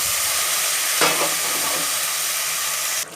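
Malabar spinach tossed into a pan of frying fish head curry gives a loud, steady sizzle, with a burst of stirring and splatter as the leaves go in.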